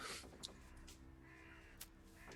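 Ravens caw in short, scattered calls at a moderate distance over a faint, steady background, with a few harsher cries standing out.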